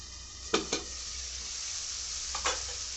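Spice paste for a fish curry cooks quietly in a pan, a faint low sizzle under two pairs of sharp spatula scrapes.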